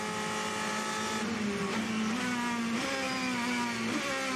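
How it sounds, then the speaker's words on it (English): Ferrari race car at Le Mans braking hard and downshifting through the gears, a loud continuous engine note with stepped pitch changes, close and dominant throughout with no voices. "It does sound brutal going on down on the brakes through the gears for the Ferrari."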